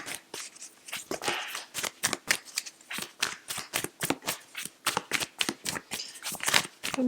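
A Work Your Light Oracle deck being shuffled, with crisp card riffles and slaps repeating in a quick, steady rhythm, close and clear, with no talking.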